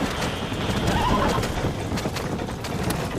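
A tired horse in the video game Red Dead Redemption whinnies loudly while its hooves clip-clop in a quick, even rhythm, up close and under a light outdoor ambience.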